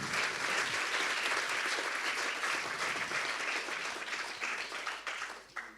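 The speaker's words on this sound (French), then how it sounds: "je me joins par le cœur et la pensée à ces applaudissements généreux" Generous audience applause fills a conference hall after a talk on the international rule of law, a dense, steady wash of many hands clapping that holds strong and then thins slightly toward the end.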